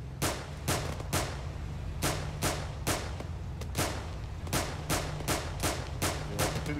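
Gunfire in the ArmA 3 video game while shooting up a town, with a Mark 18 rifle mentioned: a steady series of sharp single shots at roughly even intervals, fairly close and clear, with little talk.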